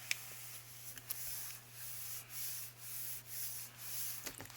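Paper being rubbed down inside an altered composition book, a series of soft, rhythmic scraping strokes close by over a steady low hum, with no talking.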